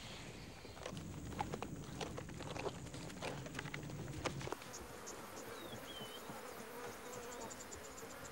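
Flies and other insects buzz around a buffalo carcass on the African savanna, a steady faint droning hum, with soft footstep-like thuds early on and a chirping call later.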